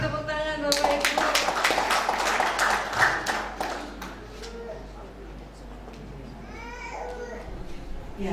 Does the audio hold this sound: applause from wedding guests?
yes